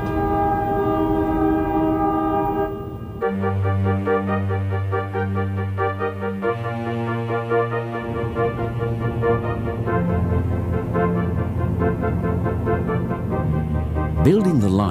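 A passenger train's horn sounds in long, loud sustained tones, shifting pitch between blasts, with rail noise rumbling underneath throughout, on a line in Queensland, Australia.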